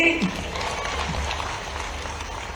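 Audience applause at a scholarship distribution ceremony in Bhopal, a dense steady wash of many hands clapping that holds at a fairly constant level throughout, with a brief voice at the very start.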